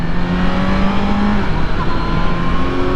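A 2019 Kawasaki Z900 naked motorcycle accelerating hard on a test ride, a loud, steady engine drone with rising pitch and a brief dip at a gear change, and no talk.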